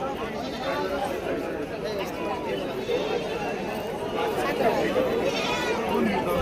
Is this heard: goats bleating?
yes